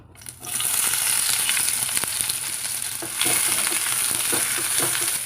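Onions sizzling in hot peanut oil for a cauliflower fry, a loud steady frying crackle that starts abruptly, with occasional stirring scrapes.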